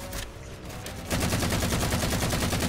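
Sustained automatic gunfire in the shooter Halo 4 fills the scene, a loud rapid rattle of evenly spaced shots that builds abruptly after a quieter first second of battle noise.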